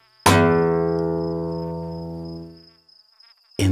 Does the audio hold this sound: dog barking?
no